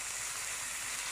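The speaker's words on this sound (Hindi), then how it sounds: "इसको हम हाई फ्लेम पे फ्राई करेंगे।" Chicken pieces sizzle in a pan over a high flame while cooking for white karahi, giving a dense, steady hiss that stays close and constant throughout.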